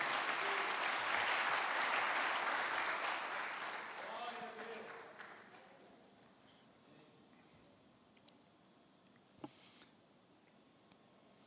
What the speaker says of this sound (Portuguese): Você pode aplaudir a esse Deus maravilhoso?